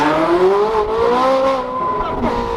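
Bugatti Veyron engine accelerating on a road, a loud close pitch climbing steadily through the revs over a couple of seconds with faint tire noise beneath.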